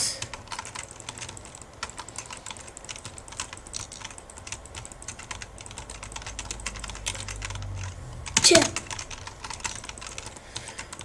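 Steady, rapid typing on a computer keyboard runs throughout, a dense stream of close clicks with one louder clattering burst near the end, and no talking.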